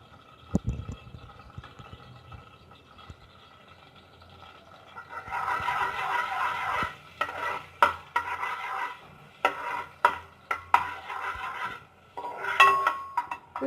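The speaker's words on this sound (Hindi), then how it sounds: "लहसुन को हमने फ्राई कर लिया।" Chopped garlic frying in hot ghee, with a soft sizzle under stirring and intermittent clinks of a spoon against the pan, growing busier after the first few seconds.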